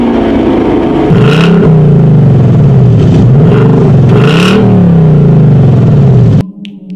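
Ford Mustang GT or Chevrolet Camaro SS V8 exhaust revving hard three times, loud and close, each blip rising and falling in pitch over a steady idle rumble, then cutting off abruptly.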